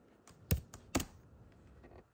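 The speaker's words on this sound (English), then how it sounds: "clip of me typing" Keys on a computer keyboard are typed in a quick, uneven run of clicks, several sharper strikes standing out among softer taps, close and fairly quiet.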